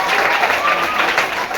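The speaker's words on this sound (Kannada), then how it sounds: "ನೋಡ್ರಿ ಜೋರಾದ ಚಪ್ಪಾಳೆ." Loud applause fills a Kannada quiz programme hall, dense and steady clapping from an audience right after a correct answer, with a voice faintly mixed in.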